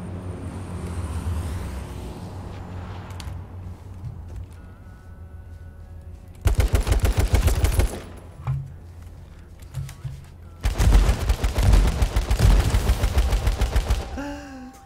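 Shotgun and other gunfire in the battle royale game H1Z1, loud dense bursts of rapid shots in two clusters over low rumbling ambience, with quieter engine-like drone between.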